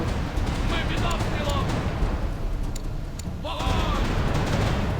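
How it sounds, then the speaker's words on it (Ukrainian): Cannon fire in the game The Pirate: Caribbean Hunt: dense, rumbling volleys of grapeshot crackle over a constant roar of battle noise, with voices shouting underneath. "Зараз будемо картечу стріляти."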